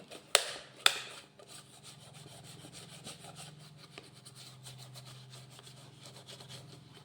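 A brush loaded with toothpaste scrubs an electrical switch board in steady back-and-forth strokes, a continuous close rubbing rasp after two sharp taps at the start, with no voices.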